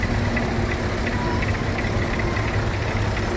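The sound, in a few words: Fordson Major tractor engine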